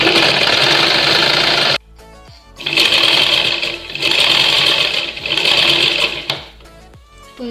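A domestic sewing machine stitches through a scrap of waste cloth in loud, steady mechanical bursts, pausing briefly between runs of rapid needle chatter.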